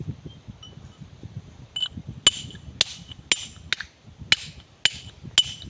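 A mallet strikes stone to cut it by hand, the old way without a drill: about eight sharp, ringing knocks at a fairly even pace follow a stretch of low rumbling.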